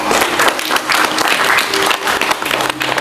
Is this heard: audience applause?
yes